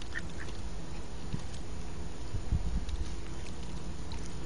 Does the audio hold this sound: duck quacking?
yes